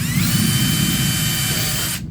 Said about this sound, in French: on prend pareil une petite perceuse et on va faire des trous